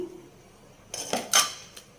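Spoons clinking against a bowl as gram flour is added, a few light metallic taps and scrapes in quick succession after a short quiet moment.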